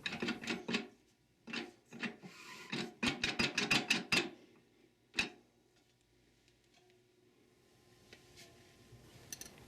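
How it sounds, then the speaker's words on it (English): A Ford E4OD/4R100 transmission forward drum is rotated back and forth to seat the friction plate teeth, making close bursts of rasping, clicking metal scrapes that stop after a few seconds, followed by near silence. "Rotate it back and forth until all of the 4 or 5 friction plate teeth engage with and go over the splines on the forward drum."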